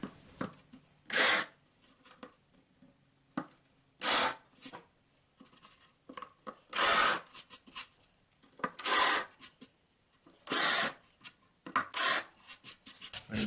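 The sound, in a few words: drill with countersink bit in wood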